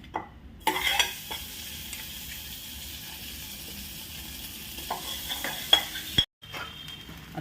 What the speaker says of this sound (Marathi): हा बटाटा घातला आणि चांगला हलवून घेऊ आपण त्याला